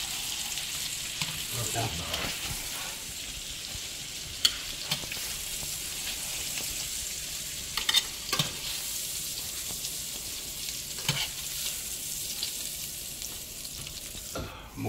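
Pork riblets fry in brown butter in a pan, giving a steady, close sizzle with occasional stirring clicks and scrapes throughout, while a voice speaks briefly once.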